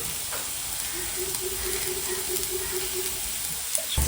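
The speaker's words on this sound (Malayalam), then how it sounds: "ഫസ്റ്റ് ഇത്തിരി വെളിച്ചെണ്ണ ഒഴിച്ചു കൊടുക്കണം" Coconut oil heats in a hot pan with a steady, close sizzling hiss that runs evenly throughout, ending with a brief clatter and no talking.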